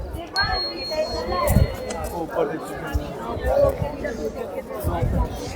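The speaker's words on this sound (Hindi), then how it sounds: "ये देखिए कितनी भीड़ है आज, बहुत ज़्यादा भीड़ है।" Visitors mill about at Amer Fort in Jaipur, a steady murmur of crowd chatter and footsteps beneath a guide's nearby talking, with a brief high electronic tone early on.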